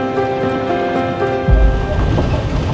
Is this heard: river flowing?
yes